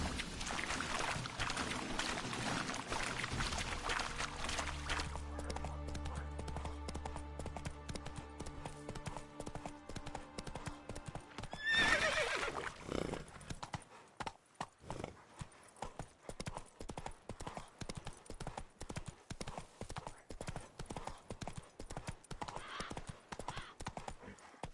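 Roach the horse in The Witcher 3 gallops with rapid, steady hoofbeats that continue throughout, with a burst of movement near the middle.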